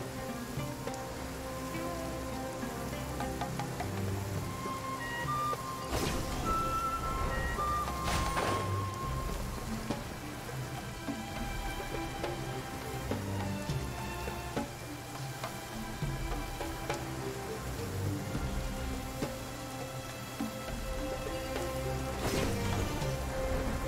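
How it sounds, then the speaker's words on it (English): Steady rain patters and hisses continuously across the ground in the Genshin Impact game world, a dense even wash with a few brief sharper chimes and effects on top. "It's raining again?"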